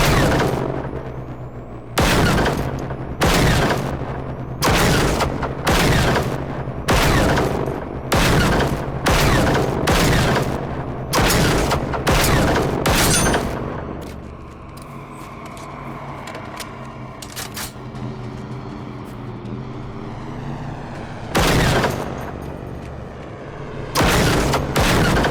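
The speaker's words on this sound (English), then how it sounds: "that's a halt rifle" Rifle gunfire in the video game Generation Zero: a rapid string of loud, sharp shots in bursts, then a pause with rumbling echo before a few more heavy shots close by.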